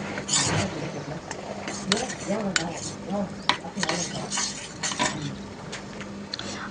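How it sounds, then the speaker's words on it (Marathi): A spoon stirs custard powder into cold milk in a bowl, with repeated light scraping and clinking against the sides, close by, under intermittent talking. "दुधामध्ये मिसळून घेऊया मिक्स करून घ्यायचं आहे"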